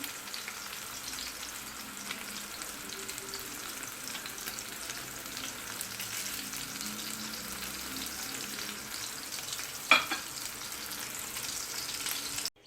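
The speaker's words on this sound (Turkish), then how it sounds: "Köftelerimiz de kızardı." Köfte meatballs fry in a pan with a continuous, close sizzle and occasional stirring, plus one sharp spatter or clink partway through.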